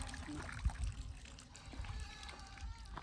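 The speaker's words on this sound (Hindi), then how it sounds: "पंप, वाह हैंडपम्प में पानी भी है।" Water runs from a village hand pump, a soft trickling and splashing stream heard faintly against a noisy outdoor background, with no clear speech.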